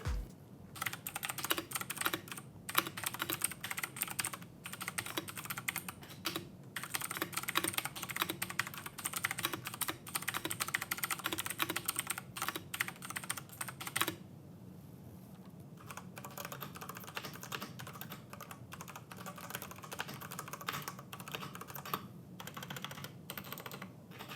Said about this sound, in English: there are also a wide range of Cherry MX switch options, but here we have the reds and the blues. So let's have a little listen to the sound they make